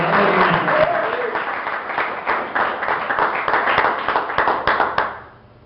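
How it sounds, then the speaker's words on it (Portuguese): A church congregation applauding in praise, dense clapping from many hands filling the room for about five seconds with loud, uneven bursts, then cutting off sharply into quiet. "pode aplaudir e glorificar o nome do Senhor"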